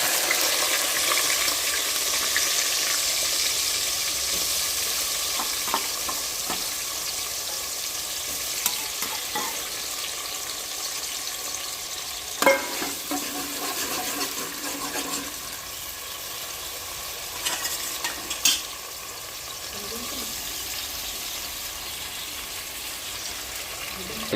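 Onions frying in a pan for a Gujarati home-cooked dish, a steady hiss of sizzling with occasional stirring scrapes and clinks, moderately loud and continuous with no talking.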